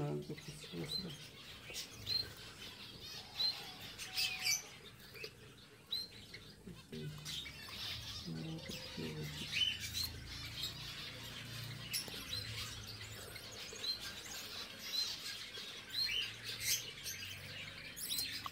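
Budgerigar chicks chirp in a breeding box: faint, repeated high tweets scattered through a quiet farm-room background, with occasional soft rustling and distant voices.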